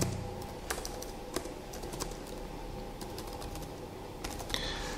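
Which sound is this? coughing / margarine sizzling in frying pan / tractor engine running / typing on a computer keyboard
typing on a computer keyboard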